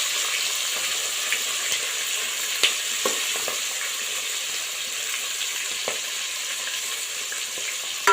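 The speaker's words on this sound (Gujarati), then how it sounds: "મરચાંને બરાબર આગળ પાછળથી તળી નાખવાના" Whole stuffed green chillies fry in hot oil with a dense, steady sizzle, close and constant, broken by occasional small clacks of stirring or turning, with no voices.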